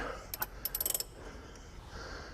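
A 1/2-inch drive ratchet turns a bolt on the harmonic balancer of a 5.0 Ford Mustang, giving quick bursts of sharp metallic clicks in two short runs, fairly close, over a quiet garage background.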